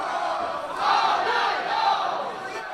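A wrestling crowd roars in a steady, dense wall of cheering and chanting, swelling slightly in the middle, with mixed shouts suggesting divided support.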